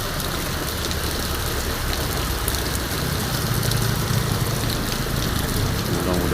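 Heavy rain pouring down in a steady, dense roar, close and loud throughout, with low rumbling underneath and faint voices in the background.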